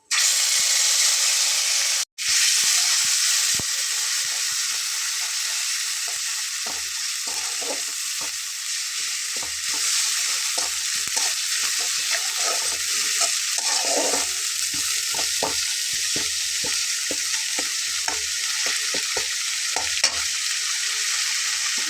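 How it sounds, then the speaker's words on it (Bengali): Ground spice paste with turmeric fries and sizzles in a pan, a loud steady hiss with scattered stirring scrapes throughout, broken by one brief sharp gap near the start. "মশলাটা কষা হতে হতে আমি এখানে লবণ, হলুদ এবং একটু লাল মরিচের গুঁড়া দিয়ে নেব"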